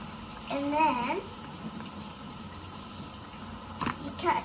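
Hot water runs steadily from a tap while a makeup brush is rinsed clean, a continuous wash of splashing under a woman's speech.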